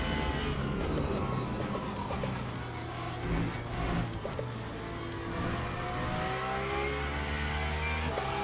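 In the Le Mans Ultimate racing game, a hypercar's engine roars loud and steady through the Porsche Curves, its pitch rising and falling as it shifts and accelerates, with no talk over it.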